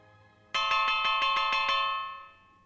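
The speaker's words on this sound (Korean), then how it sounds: "회의 시작을 알리는 종이 울리고" A bell rings clearly to open a meeting of the animals in an Aesop's fable story, about eight quick bright strikes in a row that then fade out in a quiet room.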